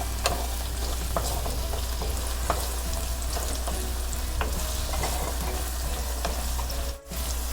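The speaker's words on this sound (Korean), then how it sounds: "여기다가 다진 마늘도 넣을 거예요. 자, 이렇게 해서 또 볶아주고요." Minced garlic stir-frying in scallion oil in a pan, a steady, close, dense sizzle with light stirring scrapes throughout and a brief dip near the end.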